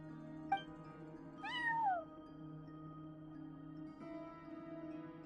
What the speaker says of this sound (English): No one except for a cat watching over the front desk.